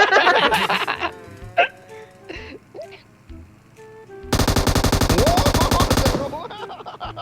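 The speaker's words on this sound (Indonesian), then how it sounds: "Mana tuh suara tembakan tuh?" A dense burst of rapid automatic gunfire in PUBG Mobile erupts midway and rattles on for about two seconds, preceded by scattered sharp shots and brief vocal sounds.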